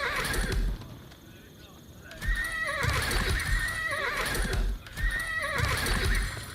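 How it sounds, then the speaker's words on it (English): Horses whinny and gallop in Age of Empires IV, with loud neighs repeating in waves over rapid clip-clop hooves while a voice talks over the game sounds. "So many horses."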